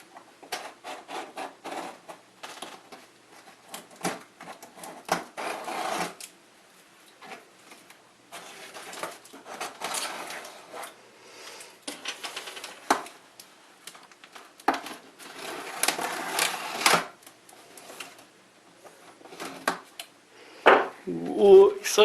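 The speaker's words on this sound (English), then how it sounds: "got my trusty little craft knife, and let's open it." A craft knife slits open a cardboard box, making intermittent scraping and rasping cuts in short bursts with pauses between them. The sound is close and moderately loud, with a voice speaking now and then.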